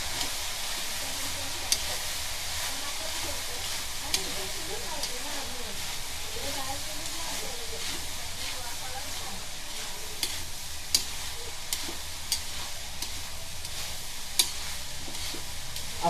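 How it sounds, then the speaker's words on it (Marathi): Cooked basmati rice being stirred through fried rice in a hot pan, a steady sizzle and hiss running throughout with faint scraping strokes and a few sharp clicks of the spoon against the pan. "तांदूळ घालून झाल्यानंतर हा पूर्ण ढवळून घ्यायचा पुन्हा"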